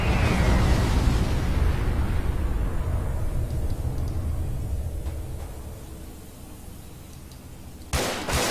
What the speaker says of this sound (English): we're already under tank fire